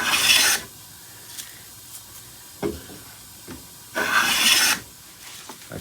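A hand plane shaves a wooden board in two bright, hissing strokes, one at the start and one later, each about half a second long, with soft knocks and taps from handling the tool between them.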